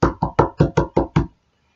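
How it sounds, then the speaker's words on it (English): Seven sharp knocks on a door come in a quick, even series, close and loud, then stop cleanly with silence after. "Soon there is a knock on my door."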